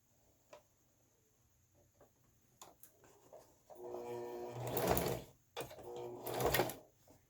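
A sewing machine stitching a placemat, starting with faint scattered ticks and clicks, then two bursts of rapid whirring stitching, each rising and stopping abruptly, fairly close and quiet, with no talk.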